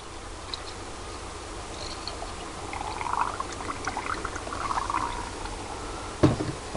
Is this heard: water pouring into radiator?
yes